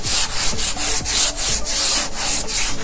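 Waxed concrete skirting board edges are sanded by hand in steady, rhythmic back-and-forth rubbing strokes, close and fairly loud, with no talk.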